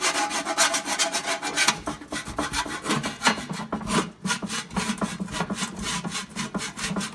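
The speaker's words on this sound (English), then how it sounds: "I do the outside flat stuff with just a plain old file" A plain hand file scrapes burrs off the edge of a metal transmission drain pan in quick repeated rasping strokes, close and rhythmic, with no talking.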